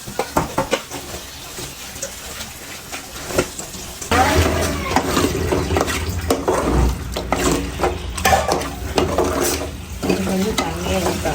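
Water is poured into a sizzling pan of crab gravy, with stirring and clattering utensils; the frying grows louder and fuller partway through.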